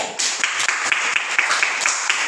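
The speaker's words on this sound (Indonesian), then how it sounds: "Tepuk tangan untuk Anjeli" Classroom applause for a student named Anjeli after a lesson on water flow from bottles, a light patter of clapping from a small group of children, moderately close, with scattered sharper claps standing out.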